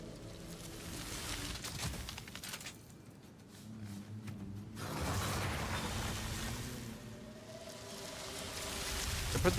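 Item crafting in Path of Exile 2 produces mechanical clunks, creaks and rumbling effects, moderately loud, with a short quieter gap midway and a sharper hit at the end.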